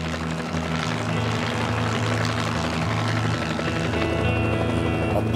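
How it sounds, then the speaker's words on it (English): Helicopter hovering in one spot, with a steady loud rotor and engine drone and a low pulsing beat holding continuously, a slight whine rising near the end. "The helicopter could hover in one spot."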